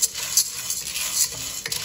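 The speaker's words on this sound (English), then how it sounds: "We're gonna go ahead and fry this up." Dry protein elbow pasta frying in a pan for sopa de fideo, a steady close rasping scrape and rustle as the pasta is stirred and shifted, with no talk.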